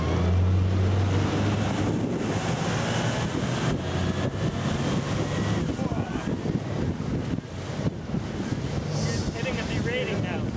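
An electric speedboat cruising over open water, with steady broadband wind buffeting and water rush throughout, a low motor hum early on, and faint voices at the edges.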